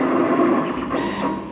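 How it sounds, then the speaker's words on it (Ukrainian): A plotter printing sewing patterns in a sewing workshop gives a steady mechanical hum and whir, a continuous moderately loud drone with slight shifts in pitch as the carriage moves. "Ось, приміром, плотер."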